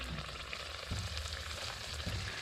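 Golgappa puris fry in hot oil over a high flame, a steady close sizzle with soft bubbling and occasional stirring or pressing sounds, with no voices.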